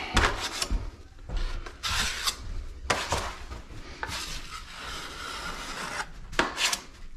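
A drywall knife scrapes excess joint compound off corners while skim coating a wall, with repeated short rasping strokes in an uneven rhythm, close and fairly loud, separated by brief pauses.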